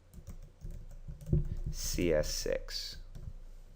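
Quick keystrokes on a computer keyboard as a folder name is entered, a short burst of close clicking taps mixed with a speaking voice.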